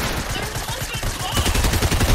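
Video game gunfire in Fortnite, a dense stream of rapid automatic shots that grows louder and heavier through the second half, with voices talking over it.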